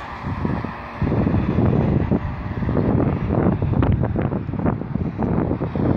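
Wind blows steadily and buffets the microphone with a low, rumbling roar that swells and gusts throughout, outdoors at the new Mamak AŞTİ bus terminal in Ankara.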